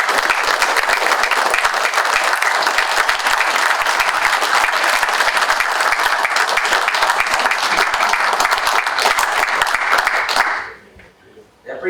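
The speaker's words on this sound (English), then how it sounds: "I would consider a round of applause for what they did." Sustained, loud applause fills a county board of supervisors meeting room, steady and dense for about ten seconds before stopping abruptly and leaving near-silence.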